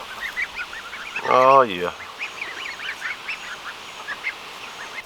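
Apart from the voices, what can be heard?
baby geese and ducklings honking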